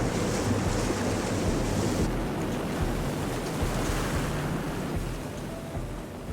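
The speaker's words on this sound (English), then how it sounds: "Today's wind and waves are stronger than usual." Strong wind and rough ocean waves at a dive site, a loud continuous roar of surf and gusting wind buffeting the microphone, with no voices.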